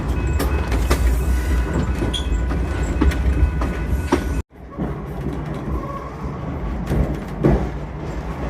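A scenic railway passenger train rolls along with a loud, steady rumble and clatter of wheels on track. The noise drops abruptly partway through, then continues more quietly.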